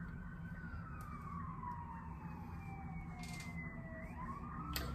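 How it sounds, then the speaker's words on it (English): A police siren wails in long descending and rising sweeps, moderately distant and passing, over a steady low rumble of traffic with no talking. "Now there's a siren, there's police."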